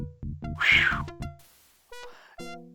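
Cartoonish cat meows from the video game Day of the Tentacle come in a quick series of stretched, pitched cries, loud and close, followed after a short pause by two shorter meows.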